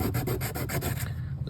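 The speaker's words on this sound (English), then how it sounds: "I use it as a sanding block" Rapid back-and-forth rubbing of a 12-pin Molex connector used as a sanding block during a pinball machine MPU board rehab, fast rhythmic scrubbing strokes up close for about a second, then stopping.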